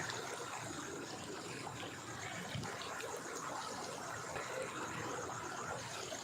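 Floodwater flows into a house during the week's second flood, filling the space with a steady, dense rush of water that stays loud and unbroken throughout.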